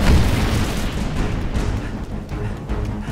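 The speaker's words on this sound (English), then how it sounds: "throwing grenades" A grenade blast in Halo Reach: a loud, dense boom right at the start that rumbles and decays into continuing low battle noise, with no talk over it.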